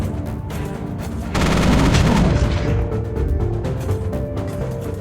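Mech weapons in the strategy game Mech Armada open fire on a swarm, a sustained burst of dense rapid gunfire and booming impacts that swells loudly in the middle and then trails into rumbling noise.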